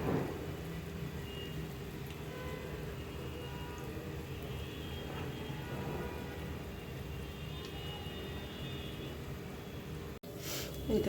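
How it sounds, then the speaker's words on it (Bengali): Pitha sweets frying in hot oil give a steady, close sizzle and crackle that runs unbroken for about ten seconds, with a brief dip near the end. "এই দেখো এখানে কি সুন্দর ভাজাটা হচ্ছে।"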